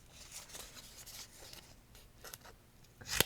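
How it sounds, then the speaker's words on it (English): Snips cut through folded paper for a craft wall piece, producing a series of short, close, crisp slicing crunches, ending in a louder snap. "I'm just going to grab the snips."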